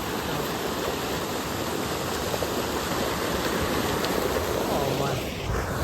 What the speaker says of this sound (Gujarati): આમ સરસ મજાનું અહીંયા જો પાણી હાલ્યું જાય છે